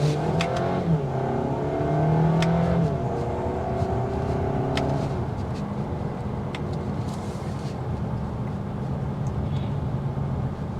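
A 2023 Volkswagen Arteon SEL R-Line engine revs up after a downshift, a loud rising drone heard from inside the car that settles into steady road and engine noise.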